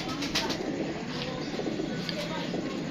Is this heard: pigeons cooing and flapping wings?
yes